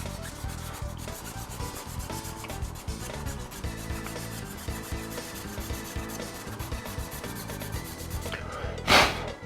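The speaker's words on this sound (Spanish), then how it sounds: "Vamos a limar todo lo que nos pida hasta que la pieza avance lo que necesitamos." Metal is hand-filed on part of an RT3 slot-car chassis, a dense, continuous rasping of quick strokes for about nine seconds, close up, ending with a brief sharper scrape.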